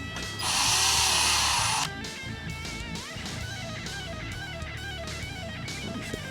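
A power drill whines steadily while drilling a dirtbike light fitting, with a bright high-pitched burst at the start before settling into a continuous motor hum, close and loud.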